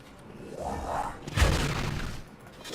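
An explosion from a summon ability in the video game Breach, a whooshing build-up followed by a sudden loud boom that rumbles briefly and fades.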